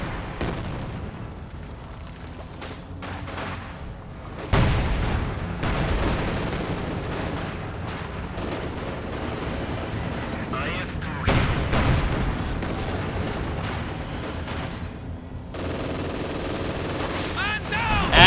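Incendiary armor-piercing rounds fire in a WWII strategy game during a 1v1 match, bursts of rapid gunfire and heavy thumps recurring in clusters over a dense battle din, with a commentator talking over it.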